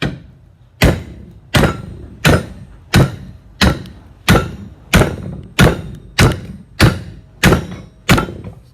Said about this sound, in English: I think we need a bigger hammer.